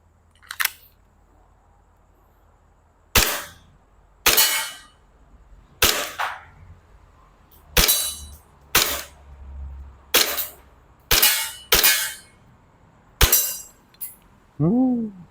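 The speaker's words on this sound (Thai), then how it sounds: "ยิงได้ปกติลูกหมดสไลด์ค้างตัวปืนไม่มีปัญหานะครับ" Bell M1911 airsoft BB pistol firing at a 10-meter range, about eleven sharp, loud cracks fired in quick irregular bursts with short pauses, and a brief metallic clatter at the end.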